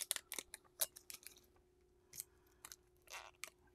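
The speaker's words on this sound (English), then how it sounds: "And then I'm gonna take off the tape. And it's gonna come off in little bits." Tape is peeled off glass in little bits, giving a quick run of short crackling rips and snaps with brief pauses between them, close and fairly faint.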